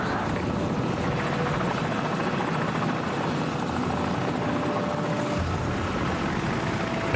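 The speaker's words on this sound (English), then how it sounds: "Enemy helicopter." An enemy helicopter flies in a video game, its rotor making a loud, steady, chopping drone that fills all seven seconds without letting up.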